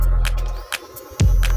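A small electric mini shaver hums steadily and close, a low continuous drone with a brief dip near the middle before resuming at full strength.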